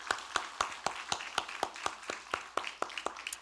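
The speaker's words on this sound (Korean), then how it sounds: "하나님께 영광의 박수 올려드립시다." A church congregation claps during a Sunday worship service, a single steady run of about fourteen evenly spaced claps, fairly close and moderately loud, with no talking.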